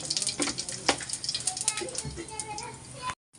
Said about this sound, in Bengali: তেল গরম হয়ে গেছে এই দেখো জিরা দিয়ে দিলাম